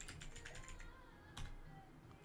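Fingers typing a command on a computer keyboard, a quick run of soft key clicks followed by a single louder keystroke, close but faint.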